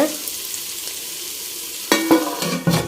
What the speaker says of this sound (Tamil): சோம்பு இதெல்லாம் ஆயிலில் போட்டு நல்லா ஃப்ரை பண்ணிகிட்ருக்காங்க.